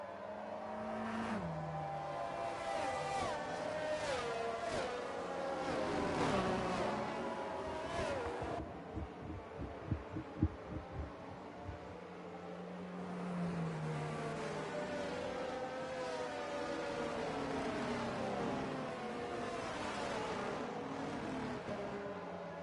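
Race cars in a racing video game circle slowly behind the safety car at the Hungary circuit, engine notes rising and falling in a steady drone with a burst of rapid revving pulses midway, over continuous background noise.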